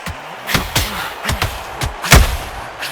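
Punches landing in the boxing video game Undisputed: a series of sharp, heavy thuds in irregular succession, about six impacts in under three seconds, the last one the loudest, with no talk.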